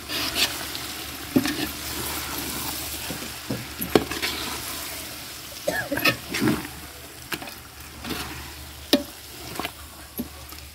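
Chicken pulao being stirred in a pot, a spoon scraping and clinking in irregular bursts over a low background sizzle, fairly close, with no talking.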